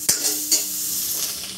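Pork belly sizzles steadily in a pan as it renders out its own fat, a close, continuous crackle with a couple of sharp clinks of stirring near the start.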